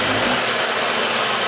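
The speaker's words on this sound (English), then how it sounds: "rev it up, just give it like a snap throttle" A Chevy Equinox engine with a low power fault, heard up close in a loud, steady, broadband roar as the throttle is snapped open, with no talking.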